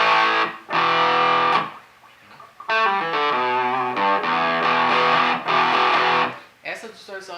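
An electric guitar on the bridge pickup plays through a small practice amp set to crunch distortion, with chords and single notes in bursts separated by short pauses.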